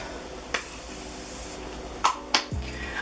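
Morphe makeup setting spray misted in a few quick, separate spritzes, close and fairly crisp against a quiet room, with a pair of bursts in fast succession near the end.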